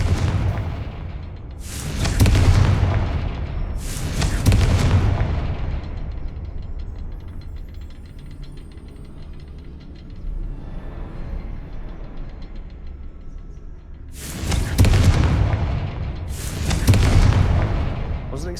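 Confringo spell explosions burst in a video game, four loud booming blasts arriving in pairs with a rumbling tail after each and a quieter lull between the pairs.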